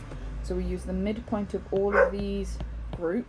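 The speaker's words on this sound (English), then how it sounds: "Sorry if you can hear the dog barking in the background." A dog barks in the background, a few short yips and barks mixed under a person speaking steadily in the foreground.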